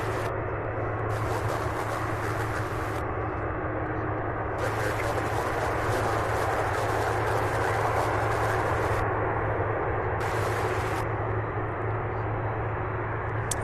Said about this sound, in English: A 30-year-old aircraft, this one here.